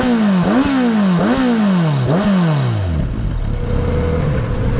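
A Kawasaki Z900RS motorcycle pulls hard through several gears, each rising engine howl cut by a quick shift in steady succession, then the loud engine note drops away into wind noise.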